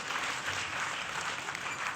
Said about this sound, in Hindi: एक बार हाथ उठाकर जोरदार ताली बजाइए इस पूरे मंच के लिए।